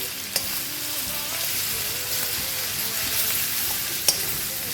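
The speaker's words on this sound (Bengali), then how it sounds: "রসুন কুচিটাকে একটু নাড়াচাড়া করে নেবো আমরা" Chopped garlic fries in a small amount of white oil, giving a steady, close sizzle broken by occasional scrapes and clicks as it is stirred.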